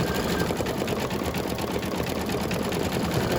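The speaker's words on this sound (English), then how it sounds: "It's going to stitch them all the way around." An embroidery machine stitching shamrock coasters runs with a steady, fast mechanical chatter of needle strokes, close and continuous with no voices.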